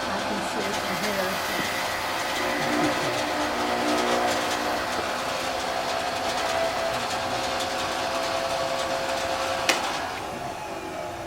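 A bowl gouge making a push cut across end grain on a spinning wood lathe, a steady close whirring hiss with motor hum throughout and a brief sharp tick near the end.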